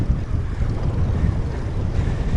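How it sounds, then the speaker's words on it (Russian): Strong evening wind on an open, flat road near Gusinoozyorsk on the way to Lake Baikal, a loud continuous roar buffeting the microphone with low rumbling gusts and no speech. "Ветер просто лютый."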